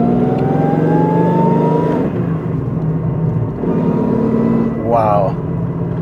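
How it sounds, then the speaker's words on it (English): A drift car with an aftermarket exhaust revs hard, its engine pitch climbing through rising sweeps with a brief dip between pulls, loud and close. "So he's obviously done like an aftermarket exhaust."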